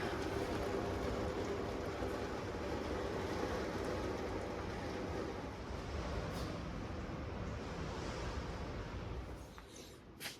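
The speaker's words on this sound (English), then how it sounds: "Raining pretty good outside." Heavy rain pours down outside during a storm, a dense steady hiss that stays loud and unbroken, easing slightly near the end.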